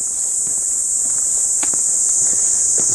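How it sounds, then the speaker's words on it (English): A loud, continuous high-pitched cicada drone fills the air on a rural stretch about a kilometre from Route 163 in Japan, with a few soft footstep-like crunches beneath it. "It's the time of the year where the cicadas are coming out in full force."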